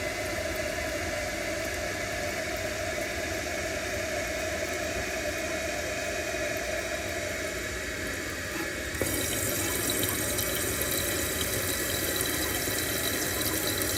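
Water rushes steadily into a toilet tank through a newly replaced fill valve, a continuous hiss and gurgle that grows brighter and louder partway through as the filling goes on, with no voices.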